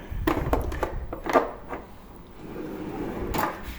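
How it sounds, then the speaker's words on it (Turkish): A kitchen drawer in a built-in fitted kitchen slides open with a cluster of wooden knocks and rattling scrapes, followed by a softer rumble and another brief clatter, close and fairly quiet. "Sonra bir alt çekmeceye geçiyorum."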